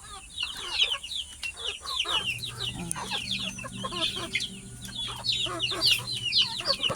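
A flock of chickens clucking and squawking nonstop close by, busy overlapping calls over a low steady hum.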